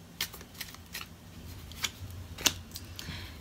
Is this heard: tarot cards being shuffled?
yes